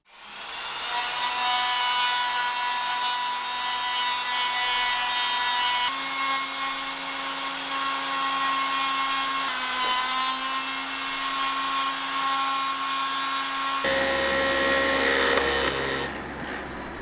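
A Dremel spinning a wooden dowel wrapped in 80 grit sandpaper sands the wood of a reed organ under restoration, giving a steady high-pitched whine and abrasive rasp that holds for many seconds with small shifts, then changes tone near the end.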